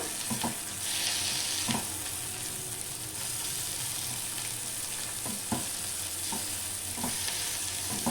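Spice masala frying in a pan for a vegetable dish over a high flame, a steady close sizzle with periodic spoon taps and scrapes as it is stirred, continuous throughout.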